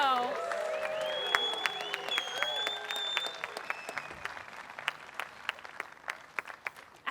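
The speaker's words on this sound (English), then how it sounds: "about another round of applause for our incredible soloist" A concert audience applauds a soloist at a band concert. The clapping is steady and mid-distance at first, then thins to scattered claps, with music-like tones in the first half.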